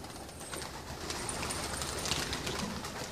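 Pigeons of a unique breed settling after a flight, soft cooing and faint fluttering under a steady outdoor background hiss, quiet and somewhat distant.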